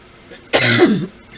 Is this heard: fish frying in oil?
no